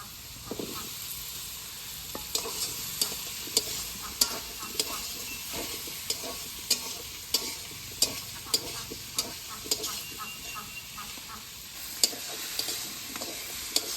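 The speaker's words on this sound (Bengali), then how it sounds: "আমার আলু ভাজা ভাজা হয়ে গেছে" Small potatoes fry in a pan in a village kitchen, a soft continuous sizzle with frequent sharp scrapes and taps of a spoon stirring them, close and fairly quiet throughout.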